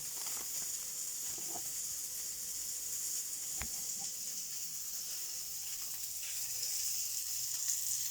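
Hamburgers frying in a pan on a stovetop, a steady close sizzle and hiss running throughout with a few faint clicks and one sharp tap midway, no talk.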